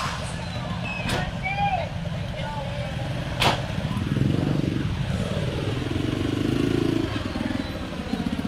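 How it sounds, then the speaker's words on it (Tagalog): Motorcycles ride in a funeral procession, a steady engine drone that swells and fades as bikes pass nearby, with a few sharp clatters and a voice speaking over it. "Kung mga nakikita po natin mga nakasingkong motor, kasama po sila sa mga nakapaglibing."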